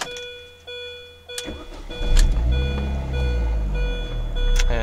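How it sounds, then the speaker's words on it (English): Mini Cooper S R53 being started: a steady chime tone rings, then the starter cranks and the supercharged engine catches, rising into a loud, close idle rumble that holds steady. "So let me go ahead and switch on the car"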